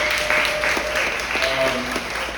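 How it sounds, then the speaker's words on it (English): Applause from an audience at a back-to-school event, a steady wash of hand claps with some voices mixed in, moderately loud throughout. "Round of applause for Ms. Wheeler"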